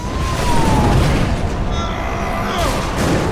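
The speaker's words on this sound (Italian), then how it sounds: "Basta animazione con le mega esplosioni alla fine" A huge explosion in the video game Prototype 2 rumbles as a dense, sustained boom with deep, rolling low end, loud and continuous, while a voice talks over it.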